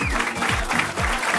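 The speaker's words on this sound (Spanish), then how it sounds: "El aplauso es para Cueto y su muchacho." An audience at a speech by the president of a Venezuelan sports body breaks into applause, a dense, continuous clapping close and loud for the whole short stretch, with faint voices underneath.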